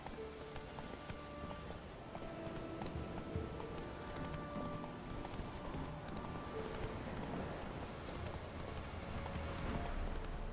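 Roach, Geralt's horse in the video game Witcher 3, trots along with steady, moderately loud clip-clop hoofbeats over ambient game sounds and a low background hum.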